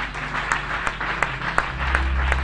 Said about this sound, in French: Acclame pour cette parole.